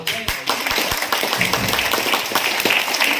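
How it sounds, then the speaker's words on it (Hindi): Listeners at a mentor's speech break into applause, sharp overlapping claps with the hall's chatter and a voice underneath. "जोरदार तालियां"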